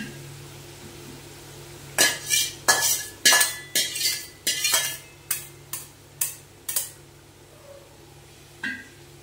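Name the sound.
stirring boiled mung dal into cooked water lily stems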